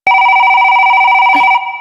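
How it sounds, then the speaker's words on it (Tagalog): A phone ringtone in a Tagalog Brookhaven roleplay game rings loudly and steadily for about a second and a half, a sustained electronic trill with a brief click near the end, alone without talk. "may tumatawag sa cellphone ko"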